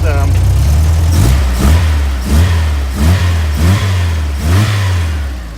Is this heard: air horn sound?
no